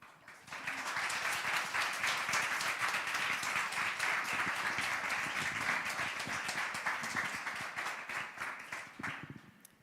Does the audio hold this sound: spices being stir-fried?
no